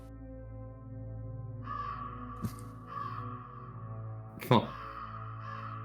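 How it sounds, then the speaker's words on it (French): Crows cawing near a ravin in a mountain setting, two sharp loud calls standing out over a steady background hum, with a few fainter caws scattered around them. "Il a esquivé les petits corbeaux comme on l'entend."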